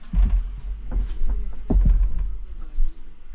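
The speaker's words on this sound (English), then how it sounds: "You can hear the entire keel just slams in there." A sailboat keel slams in its mount, giving dull low thuds in an irregular rhythm over a murmur of water.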